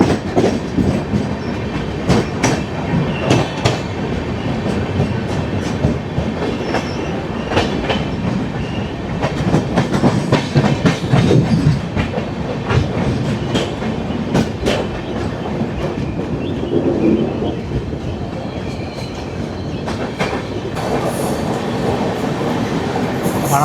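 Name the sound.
MGR Chennai Central–Mumbai LTT SF Express train running on rails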